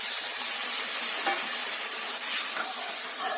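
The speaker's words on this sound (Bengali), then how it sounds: "এবার জল দেব অল্প পরিমাণ" Sizzling in a hot pan as a little water hits frying chili chicken over high flame: a steady, bright hiss of steam and spitting oil that fills the whole moment, close and continuous, with no talking.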